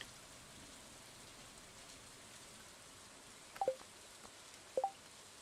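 Soft, steady rainfall in Stardew Valley Expanded, a faint hiss that runs throughout, broken near the end by two pairs of short bright tonal blips.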